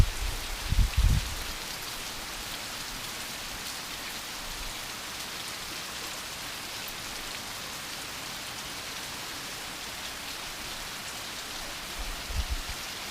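Steady rain falls in the Bahia backcountry after a spell of hot sun, a dense even hiss of drops on surfaces throughout, with a couple of low thumps near the start and end.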